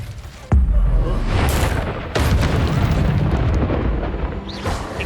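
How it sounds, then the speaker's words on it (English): A Petrificus Totalis spell cast in Hogwarts Legacy sounds as a sudden deep boom followed by a rumbling, crackling wash, with a second sharp impact partway through. "Petrificus totalis."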